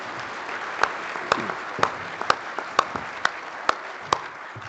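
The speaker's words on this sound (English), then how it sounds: "Give those folks a round of applause." Light applause at a 4-H livestock judging awards ceremony, a few hands clapping in a steady, evenly spaced rhythm over soft room noise.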